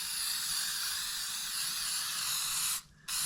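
Spray adhesive hisses steadily from an aerosol can for nearly three seconds, close and loud, then cuts off briefly before a short final burst.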